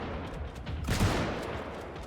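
A single shotgun blast booms in the zombie game Project Zomboid, a sharp broadband burst near the middle against a noisy game background.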